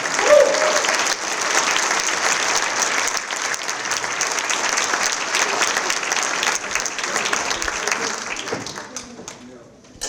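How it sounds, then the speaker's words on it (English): A large audience at an awards luncheon applauds steadily for about ten seconds, a dense wash of clapping that tapers off at the end. "let's have another round of applause for all of our award recipients"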